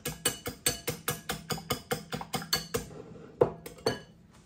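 Oil is beaten into pancake batter in a bowl, giving about a dozen quick, evenly spaced clinks of a utensil against the bowl, then a pause and two louder knocks.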